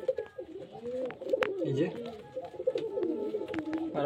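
Pigeons cooing close by in a loft of pigeons for sale, repeated soft throaty coos overlapping through the clip, with someone talking over them.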